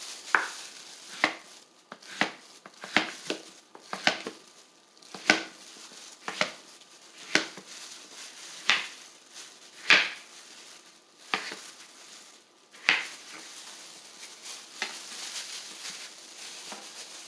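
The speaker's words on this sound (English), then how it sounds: "when I cut my onion, I cut the ends off" A knife chops an onion on a cutting board, a run of crisp separate thunks at an uneven rhythm, close and clear with a quiet background and no talking.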